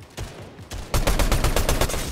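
Rapid gunfire in a video game shootout, credited to a grenade launcher, quiet scattered shots giving way to a dense, loud stream of evenly spaced bangs through the second half.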